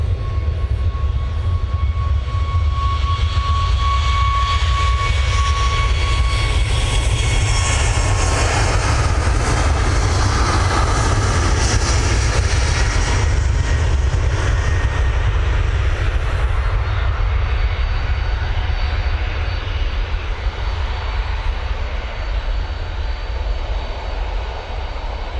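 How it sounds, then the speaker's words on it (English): A TUI Boeing 737 MAX 8 jet taking off for Budapest at Manchester Airport produces a long, powerful, low jet roar with a high whine early on, swelling in the middle and then slowly fading. "Off to Budapest we go with this TUI 737 MAX 8."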